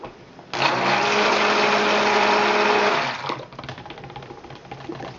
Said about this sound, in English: Just needs a quick hit with the stick blender.